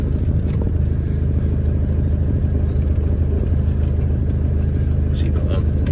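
FIAT Ducato motorhome engine running as a steady low rumble heard close by, with the vehicle's interior noise continuing throughout.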